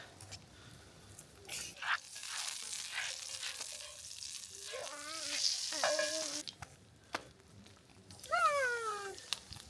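Food frying and sizzling in a hot pan on a stove in a rustic Alaskan cabin, a steady crackling hiss heard close, broken by several cat meows partway through and near the end.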